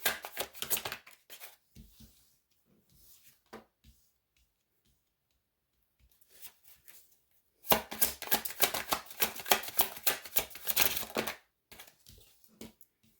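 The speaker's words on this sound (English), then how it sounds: "you got to put up with me shuffling" Tarot cards being shuffled by hand, close up, in bursts of crisp riffling and rustling with quiet gaps between, the longest and densest flurry near the end.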